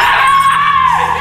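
A woman screams in a film, a single loud, sustained, high-pitched cry that holds steady for about a second before breaking off.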